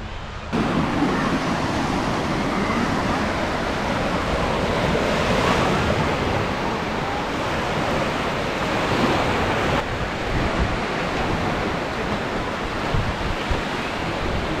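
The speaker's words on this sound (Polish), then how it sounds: "Fale, wiatr." Sea waves break on a beach in steady wind, a continuous loud roar of surf with gusty wind buffeting the microphone throughout.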